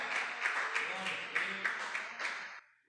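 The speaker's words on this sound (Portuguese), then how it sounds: "Vamos aplaudir bem forte ao nosso Senhor" A church congregation applauds the Lord during a worship service, a dense, steady wash of clapping with rhythmic accents that dies away abruptly just before the end.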